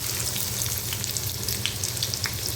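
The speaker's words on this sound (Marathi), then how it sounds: "तेल गरम झालं की याच्यामध्ये कांदा घालायचा" Onion added to hot oil in a wok-style kadhai on a gas stove sizzles and spatters steadily up close, with a low background hum and scattered sharp pops.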